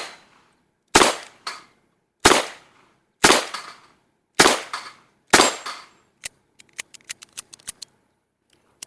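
A revolver fires five sharp, loud shots spaced about a second apart, each with a short decaying echo, followed by a quick run of lighter metallic clicks and clacks; no one speaks.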